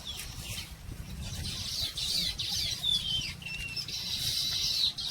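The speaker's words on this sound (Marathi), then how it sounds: "झाडाचा वर पक्ष्यांचा असा चिवचिवाट जोरात चालू होता ना" Birds chirp and tweet in a tree on a village farm near the Krishna river bank, a busy overlapping chorus of high calls that stays fairly loud over low outdoor rumble throughout.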